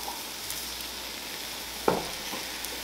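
Shrimp and broccoli stir fry sizzling in a pan of oil, a steady soft hiss with a brief stir or clink partway through.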